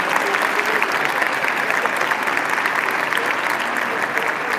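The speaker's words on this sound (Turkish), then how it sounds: "Onlara da bir alkış rica edeceğim özellikle" Hall audience at a Kayseri Caucasian association evening applauding steadily, a dense, even wash of clapping from many hands that holds for the whole stretch at fairly loud level with no break.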